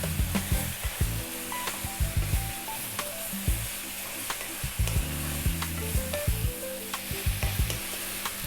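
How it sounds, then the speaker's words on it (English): Beef and eggplant curry fries over high heat while being stirred constantly, a loud steady sizzle broken by regular scraping and clattering strokes of the utensil against the pan. "Again, staying on this high heat and stirring pretty much all the time."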